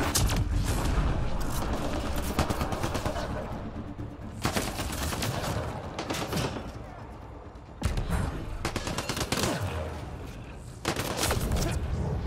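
Gunfire in the video game Mass Effect: Andromeda, loud and dense bursts of shots and thuds running continuously, with sharp cracks around four, eight and eleven seconds, and a voice faintly under the battle.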